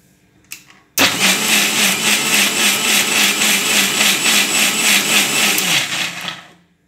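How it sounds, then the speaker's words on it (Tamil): An electric mixer blends carrots into juice, starting abruptly after a brief clatter and running as a loud, steady whirring grind for about five seconds before winding down. "ஒரு கிண்டு கிண்டி விட்டு இன்னொரு அடிச்சுக்கிட்டீங்கன்னா"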